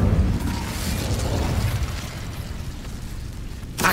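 Incendio fire spell cast in Hogwarts Legacy on PS5: a loud, rumbling fiery burst that roars and slowly fades over several seconds, with a sharp crack at the end.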